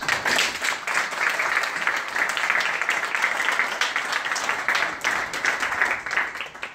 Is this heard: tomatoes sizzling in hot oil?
no